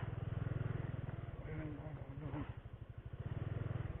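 Honda Wave RSX motorcycle ridden off-road over rocky ground, its small engine thrumming in a steady close putter that dips briefly while someone talks over it.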